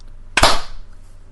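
A single sharp hand clap, loud and close, with a brief crisp burst that decays quickly into near silence.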